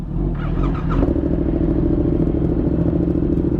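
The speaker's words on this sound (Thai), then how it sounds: "เครื่องยนต์สตาร์ท" A Yamaha R7 motorcycle engine starts with a brief starter whir, then catches into a steady, close, throbbing idle that runs on loud and even.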